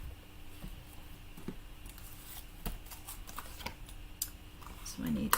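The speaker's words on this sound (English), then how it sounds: "let me grab my mini cut and emboss and die cut that." A mini cut and emboss machine die-cuts a flower from cardstock with a stamp, giving soft, close mechanical clicks and pattering under steady crafting background noise.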